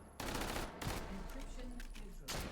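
QC9 submachine gun in a competitive video game match fired at swarms, a fast rapid-fire burst of shots with brief gaps, moderately loud.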